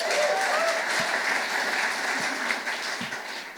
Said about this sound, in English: Round of applause for Alex, because that was sick.